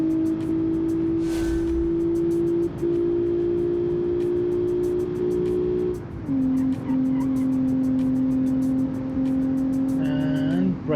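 The engine of a 1990 Super sedan drones steadily and loudly, holding a constant pitch, then drops to a lower pitch and builds again as it accelerates. A brief tire squeal comes near the end, and faint speech surfaces occasionally.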